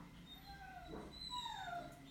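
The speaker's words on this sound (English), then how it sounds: "there's my dogs crying." Dogs whimpering and whining in high, wavering cries, a few drawn-out rising and falling tones over a steady low background hum.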